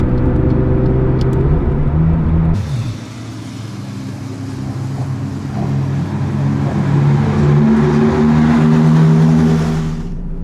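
A McLaren 675LT running on a racetrack with lowered tyre pressure gives a loud, continuous engine roar with shifting rumbling tones and steady harsh noise from wind and tyres, rising and falling with throttle, heard from inside the car.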